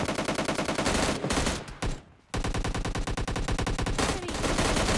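Rapid automatic gunfire in the mobile game PUBG Mobile Lite, loud dense bursts with a brief gap before firing resumes, no talk.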